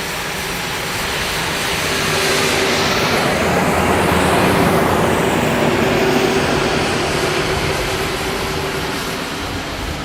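A jet airliner departs Dublin Airport, its loud, steady engine roar swelling and holding for the whole span, heard from nearby without any talk.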